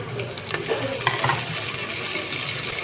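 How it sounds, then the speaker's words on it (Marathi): Chopped onion and curry leaves being sautéed in a pan, producing a steady close-up sizzle with a few light scrapes and taps of a spoon stirring. "कांदा आपण फक्त थोडासा सॉफ्ट करून घेऊया, जास्त असा डार्क नाही परतायचा, फक्त सॉफ्ट करून टाकूया"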